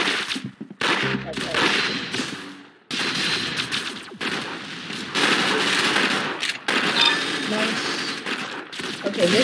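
Rapid bursts of gunfire from a burst-fire gun in the video game Arsenal, loud and dense across most of the clip, with brief gaps between volleys and voice chat mixed underneath.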